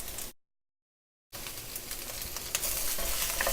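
Peppers and onions sizzling in smoking-hot vegetable oil, a loud, close, steady sizzle that cuts out briefly near the start and then comes back stronger and crackling.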